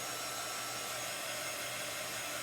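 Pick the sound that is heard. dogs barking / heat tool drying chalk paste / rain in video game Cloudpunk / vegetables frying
heat tool drying chalk paste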